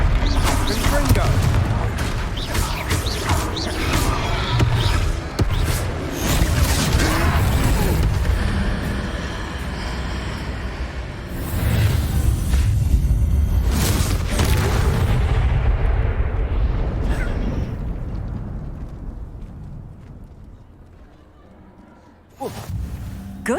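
Confringo blasting spells explode in Hogwarts Legacy during a troll fight, loud repeated booms and crackling bursts over dense game noise, fading toward the end before a final burst.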